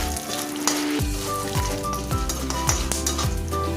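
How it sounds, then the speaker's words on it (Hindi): Peanuts sizzle in hot oil in a pan while making South Indian lemon rice, a steady frying hiss under background music with a few faint stirring scrapes. "अब हम यहाँ पर ऐड कर देंगे मूंगफली के दाने, इसको भी थोड़ा सा भून लेंगे"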